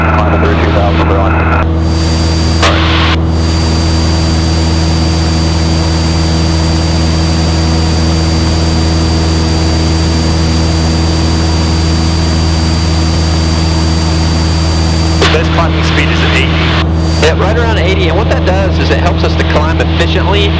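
Light aircraft engine during a climb, a loud steady droning hum with a constant whine throughout, heard from inside the cabin, with radio chatter and a pilot talking over it.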